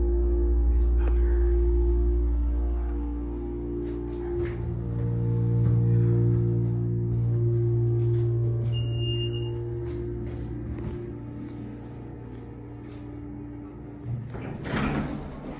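A Haughton hydraulic elevator motor at Logan Valley Mall in Altoona, Pennsylvania, running with a loud steady low hum and whine that shifts pitch partway through, with a brief beep and door clatter near the end.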